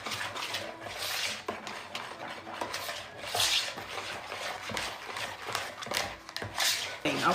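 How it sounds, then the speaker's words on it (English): A whisk beats sweet milk, pudding mix and vanilla extract together in a bowl, making quick, continuous clinking and scraping strokes at moderate volume, with no talking over it. "let's whisk our sweet milk, our pudding, and our vanilla extract together in this pudding"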